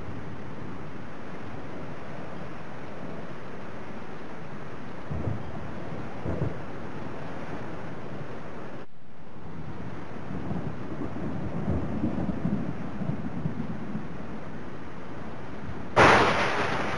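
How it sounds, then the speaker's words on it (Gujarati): Monsoon downpour hisses steadily in Arunachal Pradesh, with distant thunder rumbles swelling faintly through the rain and a sharper crack near the end. "અરુણાચલ પ્રદેશમાં પણ જોરદાર વરસાદ"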